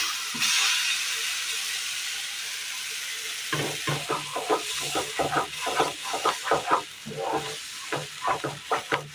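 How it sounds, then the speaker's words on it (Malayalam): Jackfruit pieces cook in a hot pan over a low flame: a soft steaming hiss at first, then a brisk run of rhythmic scraping and stirring strokes against the pan, close and fairly loud. "ഇനി നമുക്ക് പാൻ അടുപ്പത്ത് വെച്ച് കൊടുത്തതിന് ശേഷം ഇതിലേക്ക് ചക്ക നമുക്ക് ഇട്ട് കൊടുക്കാം."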